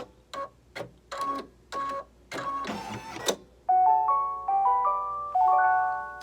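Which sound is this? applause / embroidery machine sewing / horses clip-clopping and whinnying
embroidery machine sewing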